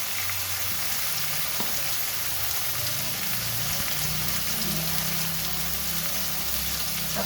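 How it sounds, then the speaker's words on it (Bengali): A fish head with boiled potato and papaya, dusted with turmeric, fries in a pan with a steady, close sizzle and a soft low rumble beneath. "এবার আমি সব ভেজে নেব।"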